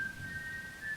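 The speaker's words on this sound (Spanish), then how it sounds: "el sonido de alguien silbando." Someone whistling outside, heard as a single steady sustained note held for about a second, faint and thin over a soft background hiss.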